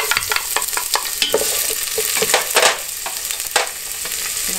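Onion hits hot olive oil in a pan for homemade chili, bursting into a loud close sizzle broken by repeated sharp spatula scrapes and taps, with no one speaking.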